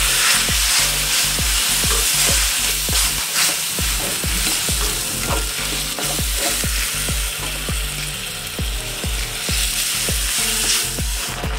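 Milk is poured gradually into roasted semolina for sheera and stirred in, producing a constant sizzle with a steady rhythm of sharp spoon taps and scrapes against the pan.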